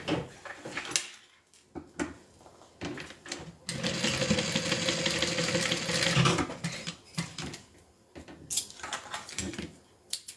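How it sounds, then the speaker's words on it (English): A sewing machine stitches down a pinned zipper panel on a custom-made Kiana piece, running in a sustained loud burst in the middle with shorter clicks and handling knocks before and after. "I'm just pinning it and then I'm going to sew it down."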